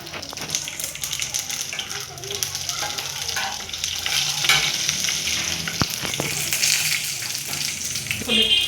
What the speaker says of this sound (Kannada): ನೀರು ಹಂಗೆ ಹಾಕಿದ್ಮಲ್ಲ, ಅದಕ್ಕೆ ಸಿಡಿತಾ ಇದೆ